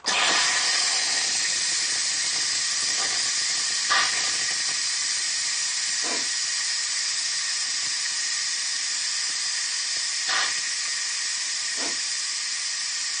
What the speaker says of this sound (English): So you're going to watch this thing release the steam.